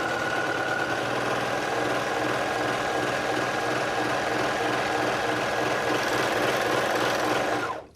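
A serger sewing machine running fast while stitching fabric for reusable paper towels, a steady loud mechanical whir and rapid needle chatter for several seconds before stopping abruptly.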